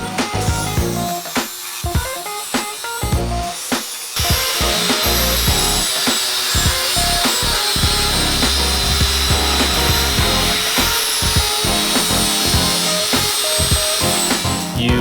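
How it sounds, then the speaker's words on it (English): Power grinder working the bottom of a cut-out notch in a C10 truck frame, a loud continuous metallic whine with scraping bursts in the first seconds, steady throughout and with no talk. "The boys are grinding the bottom portions of the notch where the frame was cut out"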